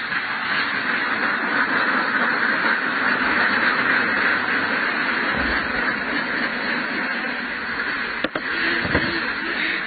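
Ducks on a duck egg farm keep up a steady mass of quacking and calling close by, a continuous flock chorus with a brief knock near the end.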